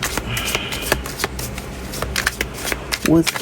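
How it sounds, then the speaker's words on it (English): Tarot cards being shuffled and a single card pulled from the deck, a run of quick close riffling clicks and soft flutters carrying on steadily under faint background sound. "I'm just going to pull a card"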